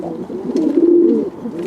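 A close, loud dove coo, a single rolling low call from fantail or curved-tail pigeons in a loft, lasting just over a second with a soft lead-in and tail.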